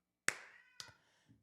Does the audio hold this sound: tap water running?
no